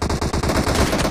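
Rapid, loud bursts of automatic gunfire from a team deathmatch sniping video game match, packed into a continuous rattling volley with no talk.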